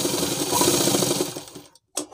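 A sewing machine runs a fast, steady stitch on a girls' school dress, loud and close, then stops briefly before a short final burst.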